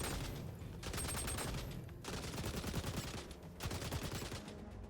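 Rapid automatic gunfire from an M249 light machine gun at the shooting range in XDefiant, delivered in long sustained bursts with short breaks between them, loud and close with no voices over it.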